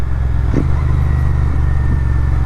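Loud Yamaha MT-15 single-cylinder motorcycle with a stock exhaust and rusted, worn catalytic converter, idling in a steady deep throb with brief throttle blips, close and alone.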